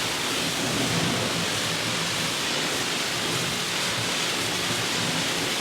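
Westinghouse 2700 gas pressure washer with a 5.0 tip rinsing foam off a surface, a dense continuous hiss of spraying water at steady high loudness throughout.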